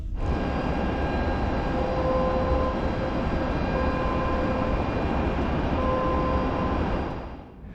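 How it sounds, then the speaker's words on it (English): A Genesis GV60 electric car reversing gives off a steady spaceship-like synthetic hum with layered sustained tones, loud and continuous for several seconds before fading slightly at the end. "And if you think this spaceship-like noise is the weirdest sound that the GV60 makes, there is another one, and it comes about when you start backing up"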